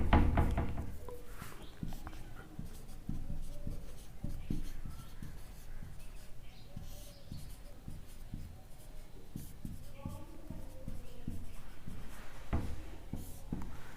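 Writing on a board during a chemistry class, with faint scratchy strokes coming in short, irregular bursts against a quiet room.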